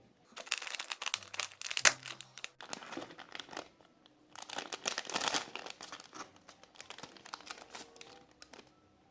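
Crinkling, tearing plastic as a new-series Littlest Pet Shop (LPS) toy package is opened, in bursts of rustling and crumpling with brief pauses between them, close and fairly loud.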